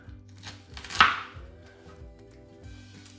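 A kitchen knife chops an onion on a board for homemade tomato sauce, with a few soft cuts and one sharper, louder chop near the middle, quiet and close.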